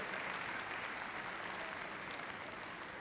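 Audience at the Crufts 2012 Kennel Club Junior Warrant final applauding the competing dogs and handlers, a quiet, distant wash of steady clapping for a few seconds.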